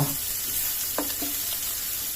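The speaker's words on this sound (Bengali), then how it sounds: "এখন মাছগুলো ভাজা হচ্ছে" Hilsa fish pieces fry in hot oil in a pan next to fried brinjal, giving a steady soft sizzle with a few brief crackles and pops; the sound is close and continuous, with no voices.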